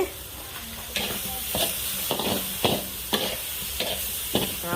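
Mama instant noodles stir-fried in a pan, a constant sizzle punctuated by about eight rhythmic scraping strokes of a spatula, roughly one per half second, up close with no voices.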